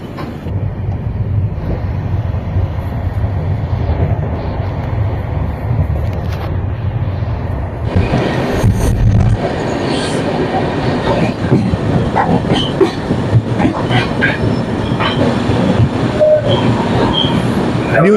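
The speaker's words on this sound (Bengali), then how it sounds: "আর এই দেখুন এটা হচ্ছে Rajendranagar terminal Kamakhya capital express." The Rajendranagar Terminal–Kamakhya Capital Express passing near New Jalpaiguri, heard from aboard another moving AC train: a loud continuous low rumble with rattling and clickety-clack, a sudden whooshing surge as it goes by, sustained throughout.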